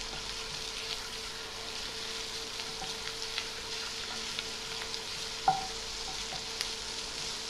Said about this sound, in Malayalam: ഈ ഇഞ്ചിയും വെളുത്തുള്ളി ഒന്ന് സോട്ട് ചെയ്യുക കേട്ടോ